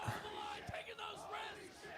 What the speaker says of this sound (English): this entire crowd is going crazy